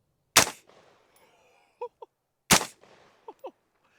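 Two loud, sharp rifle reports from 5.56 green tip rounds fired into meat, about two seconds apart. Each crack is followed by a brief echo and a few faint knocks and thuds.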